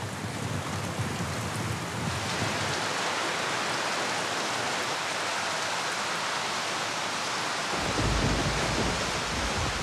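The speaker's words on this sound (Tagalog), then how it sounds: "pag nag-aulan, nagatulo po pag umuulan" Steady rain falls on a roof that leaks, a dense continuous hiss that stays even throughout, with a low rumble fading in the last seconds, no talking.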